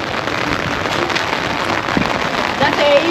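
Steady rain patters on a hard surface, a dense, even hiss close by, with faint voices murmuring in the background.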